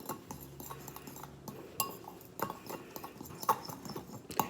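A tiny fork clinks lightly and repeatedly against a dish while stock is combined in a home kitchen, with soft irregular taps and clicks at low volume.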